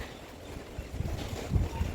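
Gusty wind buffets the microphone in low rumbling bursts, growing stronger toward the end.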